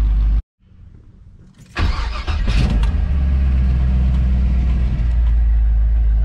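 A 1964 Chevrolet Impala's engine cranks and catches after a short pause, then settles into a loud, steady, rumbling run close by, with no talking.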